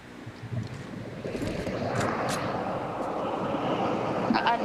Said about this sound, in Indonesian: Hujan deras parah.